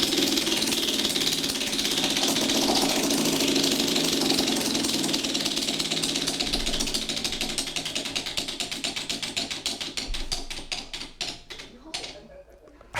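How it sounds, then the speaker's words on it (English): A game show prize wheel spins with rapid ratcheting clicks that are loud and dense at first, then slow into spaced ticks until the wheel stops, with voices underneath. "Go ahead and spin the wheel."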